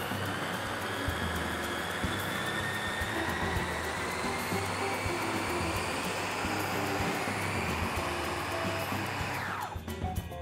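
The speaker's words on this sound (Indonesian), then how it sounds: "Kemudian kita bisa tutup lagi dan kita bisa giling lagi. Kali ini mencampurkan jamur," Food processor steadily whirring as it grinds mushrooms, broccoli and cauliflower, a loud continuous motor drone that spins down abruptly near the end.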